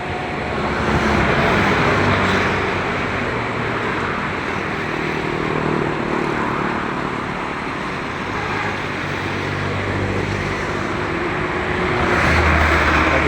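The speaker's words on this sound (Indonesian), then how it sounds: "Orang bekerja sedang merontokkan padi dengan mesin perontok itu." A rice threshing machine runs during the harvest at Sibreh, giving a loud, steady mechanical drone that holds for the whole stretch with no break and no voices.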